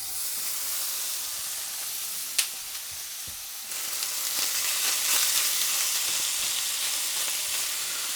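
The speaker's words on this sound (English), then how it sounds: "Now we're gonna go in with 1/2 pound of bacon." A half pound of bacon hits a preheated pan with a sharp clack, then a steady hissing sizzle settles in and grows slightly louder and denser as the strips cook.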